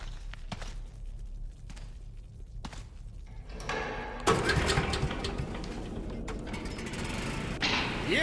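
In the video game Metro Last Light, a few mechanical clanks and footsteps lead into a sudden loud startup of a generator and elevator machinery, then a sustained heavy mechanical roar close by.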